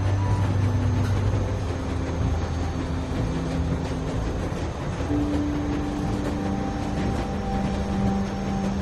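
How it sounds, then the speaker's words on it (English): A moving train in The Walking Dead video game rumbles continuously, a dense steady rolling roar with faint rhythmic clatter, moderately loud, no speech over it. "We gotta stop the train."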